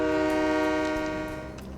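A train engine in Train Mechanic Simulator 2017 drones with a steady tonal hum and rumble, loud and continuous, fading gradually toward the end.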